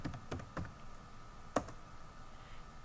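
Several quick keystrokes on a computer keyboard while a command is typed into AutoCAD, soft nearby clicks in a short burst and then one sharper tap after a pause, faint over a quiet room hiss.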